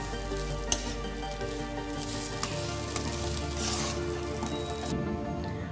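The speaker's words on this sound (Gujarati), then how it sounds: "તેને સારી રીતે હલાવી લેશું।" Potato masala for vegetable frankie frying and being stirred in a pan, with a loud continuous sizzle close up, a few sharp utensil taps against the pan, and no voices.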